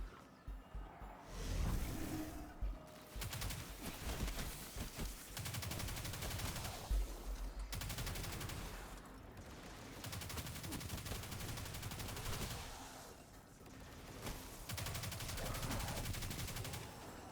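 Gunfire in a video game exotic mission played solo on legendary difficulty, sustained bursts of shots and rapid fire running nearly throughout, dense and fairly loud, with brief lulls between volleys.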